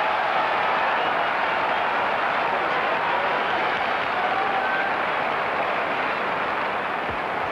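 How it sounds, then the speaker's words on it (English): A large cricket crowd at Lord's in 1963 applauds a fifty partnership between Barrington and Parks during England versus West Indies, a steady, dense wash of clapping that holds evenly throughout without a break. "The applause is for the 50 partnership in exactly 50 minutes between Barrington and Parks."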